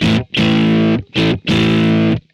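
Heavily distorted electric guitar chords played loud through a VOX AC30 amPlug 2 headphone amp with gain on full, four thick sustained strums with short gaps between them.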